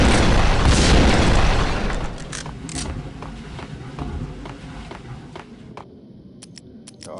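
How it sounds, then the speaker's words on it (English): A bomb explodes in the video game Max Payne, a loud deep boom that rumbles and fades over several seconds, followed by scattered clicks and pops of game action. "Oh, it is a bomb."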